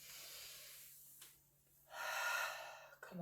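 During a yoga exercise, a person breathes audibly through the nose, with a long airy intake, a pause, then a louder, deeper inhale near the microphone and a brief snort-like catch at the end.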